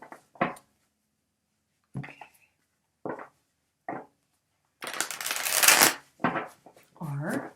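Tarot cards shuffled for a reading: short riffling bursts, then one longer, louder shuffle in the middle, heard close up with no talking.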